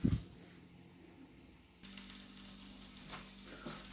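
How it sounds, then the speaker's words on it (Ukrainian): Chopped onions sizzling in a pan for risotto with mushrooms, a steady low hiss that steps up louder partway through as if stirred, with a brief clatter at the start and no talking. "у нас цибулечку піджарюються уже"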